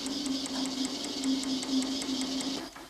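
An Eckold Kraftformer shrinker/stretcher stretching an aluminium angle section into an S-profile with a beak-shaped tool, running as a rapid steady mechanical hum with a regular fast tapping rhythm that stops near the end.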